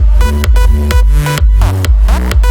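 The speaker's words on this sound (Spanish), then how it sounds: "Te voy a enseñar cómo suena procesado con Devastor" Loud electronic loop of a kick drum, a synth sequence and a bass, all saturated by the Devastor distortion plugin, pounding in a steady driving rhythm with gritty, dense low end and no voice.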